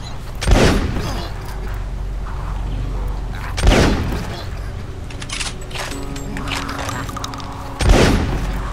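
Three loud booming gunshots ring out from a video game, each one well spaced from the next, over a steady background hum. Speech-like sounds are present.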